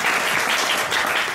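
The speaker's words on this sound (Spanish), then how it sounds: "un aplauso para Usue" Audience applause at a talk, a short burst of dense clapping from many hands, steady and fairly loud throughout.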